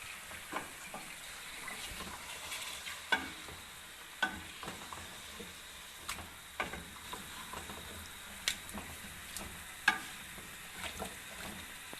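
Marinated chicken for achar gosht fries and sizzles in a pan, with a steady crackle broken by frequent sharp scraping clicks as it is stirred, fairly faint and close, with no talking.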